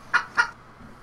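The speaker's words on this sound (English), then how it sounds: "He put chicken noises in this." Two quick chicken clucks in close succession, fairly loud and near, followed by a faint quiet tail.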